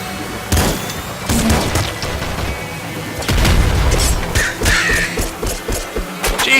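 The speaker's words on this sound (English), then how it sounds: "Oh, why am I going toward the explosion?" Explosions boom in the pixel-art shooter Nuclear Throne, several loud bursts with crackling debris layered over game sounds, including a deep blast midway followed by smaller scattered pops.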